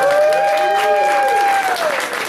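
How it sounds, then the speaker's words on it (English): An audience at a Broadway cabaret revue gives a loud round of applause for Sarah and Dustin, dense clapping running throughout with whoops and cheering voices rising over it. "we wanted to really thank Sarah and Dustin. Big round of applause."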